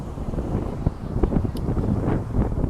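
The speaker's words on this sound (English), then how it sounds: "Why is it windy right here?" Outdoors, wind buffets the microphone in a steady low rumble with irregular gusty thumps, close and constant, with no other sound standing out.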